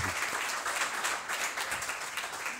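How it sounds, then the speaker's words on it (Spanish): Audience applauding at a live comedy talk after a call to applaud the speaker's parents seated in the crowd; steady, dense clapping with a few whoops, moderately loud, no speech over it. "un aplauso para ellos"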